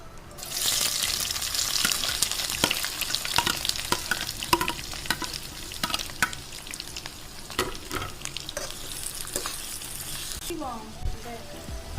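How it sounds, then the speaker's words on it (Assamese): Chopped onions frying in hot oil with whole cumin for an Assamese mutton curry, a steady close sizzle broken by repeated scraping stir strokes of a spatula in the pan, with a sharper clatter near the end. "পিঁয়াজখিনি কালাৰ অলপকৈ মই অলপমান ভাজি লওঁ"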